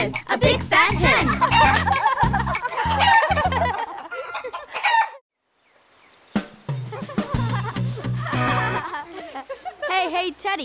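Farmyard hen clucking and rooster crowing play within a loud children's nursery rhyme song, with the sung music dropping out briefly before the bird sounds continue under it.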